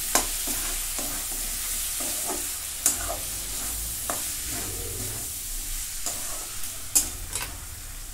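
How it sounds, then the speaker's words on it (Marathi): Finely chopped mint is stirred in a hot kadai, a steady sizzle with repeated scraping strokes of a spatula and a few sharp clicks against the metal. "बारीक चिरून घेतलाय पुदिना. आता हे परतून घेते."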